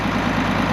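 An International Harvester 1066 tractor engine, parked for years, runs at a steady idle, a dense, continuous low rumble, loud and close throughout.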